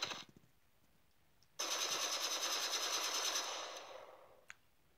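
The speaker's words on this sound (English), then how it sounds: "I think we're gonna use rifle." Rapid rifle fire in the video game Stealing the Diamond sounds as a dense, sustained burst of shots lasting a couple of seconds, loud and crackling, after a short earlier rattle, with no talking.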